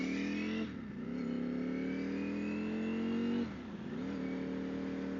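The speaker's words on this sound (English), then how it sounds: "That V4 90-degree motor is just a beast." 2021 Ducati Streetfighter V4 motorcycle with a 90-degree V4 engine accelerating on the road, its engine note rising steadily through the gears with two brief dips at shifts, heard from the rider's position with wind noise.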